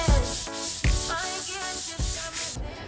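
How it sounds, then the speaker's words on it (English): Rhythmic sanding strokes scrape back and forth over body filler on a Nissan 240SX, about four passes, close and fairly loud with no talking. "I just finished sanding all the body filler down."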